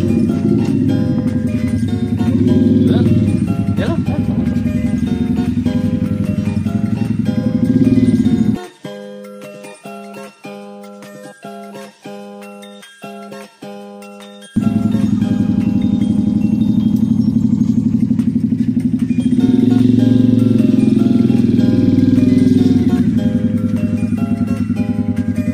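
A Kawasaki Bajaj CT 125 motorcycle engine under restoration runs close by with a steady, rattly idle, drops out briefly to a ticking mechanical clatter, then roars back up.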